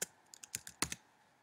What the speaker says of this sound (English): So you go right here and you type in Nobelprize.org.